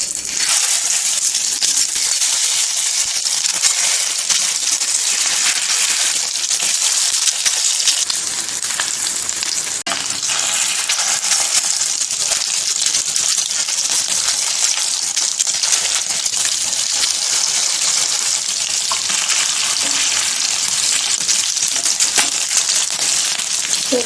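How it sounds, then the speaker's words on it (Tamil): Fish, a Sunday-special pomfret dish, fries steadily in hot oil, giving a dense, continuous sizzle and crackle that stays loud and close throughout with no voices. "ஃப்ரை பண்ணுறதுக்கு ஆயில் வச்சுட்டேன், ஃப்ரை பண்ணிடலாம்."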